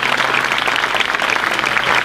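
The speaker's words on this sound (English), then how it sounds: "So everyone actually is clapping like for her right now" A concert audience claps together for a singer at an outdoor garden concert, continuous loud applause filling the whole moment.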